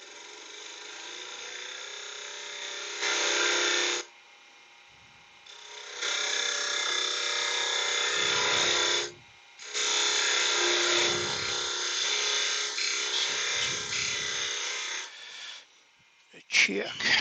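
Lathe parting tool cutting into a small laburnum wood bowl, a whining, scraping cut in several long bursts separated by brief pauses, with a person talking in the gaps.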